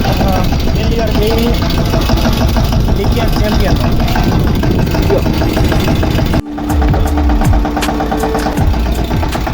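A mini tractor's small engine chugs loudly and steadily while making furrows in a field, with rattling and clanking over it, briefly dipping near the end before continuing.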